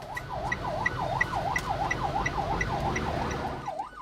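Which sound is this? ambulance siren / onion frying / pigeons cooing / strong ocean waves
ambulance siren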